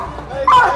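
A police K9 dog barks and yips sharply during a suspect callout, a short loud burst close by with a voice in the background.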